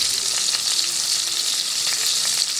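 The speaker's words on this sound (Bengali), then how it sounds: "এটা খুব ভালো করে আমি নেড়ে নেব" Ground spices — cumin, Kashmiri chili powder, turmeric and salt — fry in a pan for a vegetarian paneer dish, giving a steady, loud, close sizzle with faint stirring scrapes and no talk.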